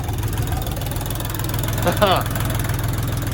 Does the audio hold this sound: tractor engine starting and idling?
yes